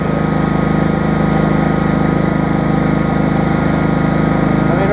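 An Exmark lawn mower engine runs at a steady, loud drone for the whole stretch, with an even, unbroken hum and no change in pace.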